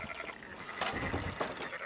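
Sheep bleating in the Red Dead Redemption 2 video game, a couple of short nasal bleats rising from a steady ambient farm background, moderately close and alone without talk.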